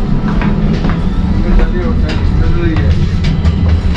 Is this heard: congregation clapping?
no